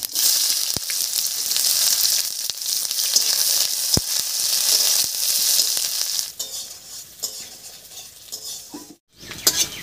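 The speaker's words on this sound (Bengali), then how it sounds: "তেলের মধ্যে দেব দুটো শুকনো লঙ্কা আর সামান্য একটু গোটা জিরা, এর উপরে দিয়ে দেব পেঁয়াজ কুচি" Two dried red chillies, whole cumin seeds and chopped onion frying in hot mustard oil make a loud, steady sizzle, with a few utensil clinks and stirring sounds toward the end.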